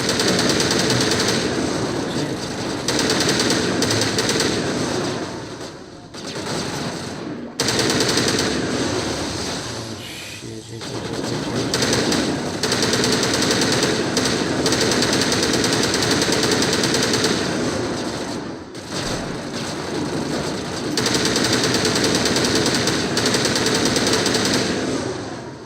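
Sustained, loud machine-gun fire in a Mass Effect video game battle, a dense rapid rattle running almost nonstop for over twenty seconds with only a few short pauses.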